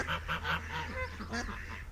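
Several geese honk in quick succession, close by and fairly loud, with harsh nasal calls repeating in an uneven rhythm and no talking.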